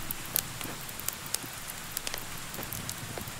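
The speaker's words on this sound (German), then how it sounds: "Boah, der Regen, wie er runterkommt." Steady rain falls in the medieval survival game Medieval Dynasty, a dense, even hiss with scattered sharper drops pattering on surfaces, continuous throughout with no talking.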